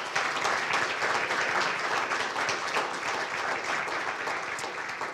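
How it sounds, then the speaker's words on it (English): Audience applause for the kitchen team at a ProfCon event, a continuous even roar of many hands clapping, fairly distant and steady for the whole stretch. "Let's give them a round of applause"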